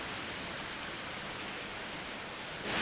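Rain falling steadily during a stay at a luxury hotel in Lithuania, a dense even hiss with no pauses, close and moderately loud, with no one talking.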